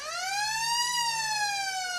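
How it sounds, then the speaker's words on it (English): A loud, sustained siren marks the end of an under-15 girls' football match, a single rising then slowly falling electronic tone with rich harmonics, heard alone without commentary. "And with the siren about to go"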